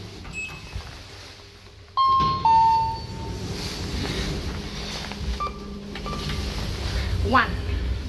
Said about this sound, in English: Let's play the chime down.